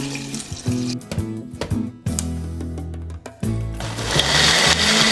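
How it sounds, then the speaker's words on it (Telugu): A kitchen mixer grinder pulverises whole spices, including poppy seeds, with water into a masala paste for prawn biryani, running in loud, close whirring bursts with short stops and restarts, the pitch rising as the paste thins. "మొత్తం మొత్తం మెత్తగా మిక్సీ పట్టేస్తాను"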